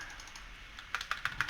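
Computer keyboard keys pressed while playing World of Warcraft, four crisp close taps in a steady rhythm after a short quiet stretch.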